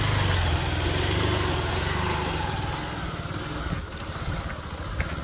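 A motorcycle engine runs steadily on a ride toward the Harihar Fort trek in Maharashtra, a loud, close drone with constant wind rush and slight dips in level.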